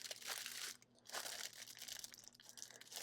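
Small resealable plastic bags holding diamond painting drills are handled up close, giving loud crisp crinkling and rustling in quick bursts with a brief pause near the first second.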